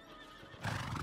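A horse whinnies briefly near the end after a quiet, hissing moment, in the game Conqueror's Blade.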